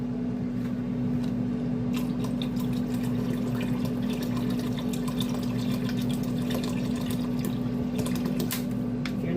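Around six cups of water run steadily into a pot for yellow rice in a home kitchen, a constant rushing pour over a low electrical hum, with no voices.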